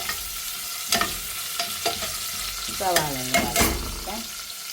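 Onions sizzle in a pan while a spoon scrapes and stirs, giving several clattering knocks over a continuous crackle, loud and close.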